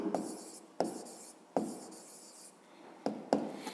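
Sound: writing math on a board

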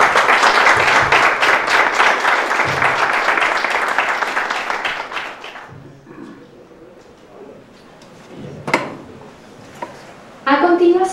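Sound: audience applauding a speaker

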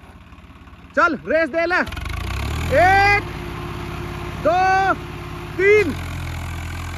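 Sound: two tractors running their engines during a race

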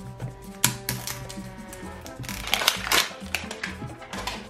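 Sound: zipper opening on LOL Under Wraps doll package

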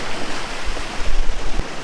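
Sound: river water rushing through broken lock gate

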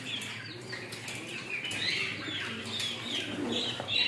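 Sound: peacock flapping its wings

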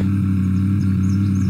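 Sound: car engine driving in the video game Unturned

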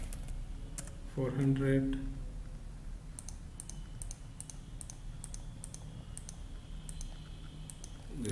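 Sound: clicking through an online application form

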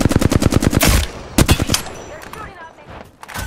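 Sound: gunfire in the video game Apex Legends

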